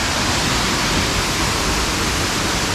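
Glencar waterfall in Ireland pours in a continuous, loud, even rush of falling water, close by and steady with no other sounds.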